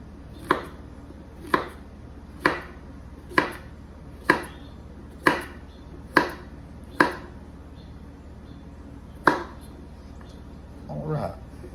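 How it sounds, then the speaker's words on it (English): A knife cuts summer squash into quarter-inch slices on a cutting board, giving about nine sharp, evenly spaced chops close up, followed by a brief rustle at the end. "Slice this up."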